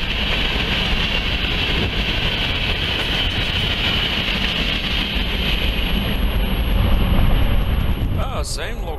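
A heavy, continuous rumble of a BNSF or Union Pacific freight train rolling past at steady loudness in the Columbia River Gorge near Biggs, with a faint high whine and a brief clatter near the end.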